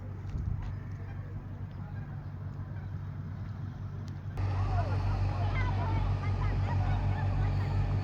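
A motor boat runs on the River Thames beside a riverside path, its engine a steady low hum that grows louder partway through, with people talking in the background.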